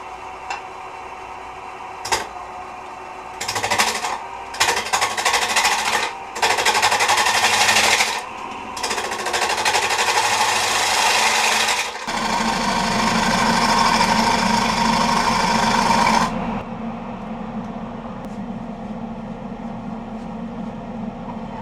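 A wood lathe turns the base of a lazy susan, with bursts of loud scraping, hissing tool cuts against the spinning wood, broken by brief pauses, then a steadier humming run of the lathe before it winds down to a quieter background hum.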